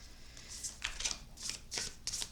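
Tarot cards being shuffled, several quick riffling bursts with short pauses between them, close and clear, with no talking.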